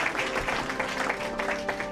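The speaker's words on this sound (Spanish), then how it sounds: "alaben con sus palmas" Church congregation clapping hands together, a brisk run of overlapping claps at middle distance over a sustained musical tone, with no voices.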